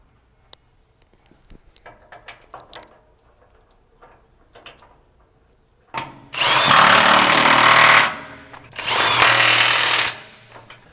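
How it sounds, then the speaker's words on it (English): A power tool driving 1-inch bolts back into a pump hopper on an HP20T4 pump: quiet clinks and handling first, then two long loud close bursts of rattling whir separated by a brief pause. "And reinstall your 1" bolts"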